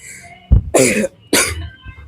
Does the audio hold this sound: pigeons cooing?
no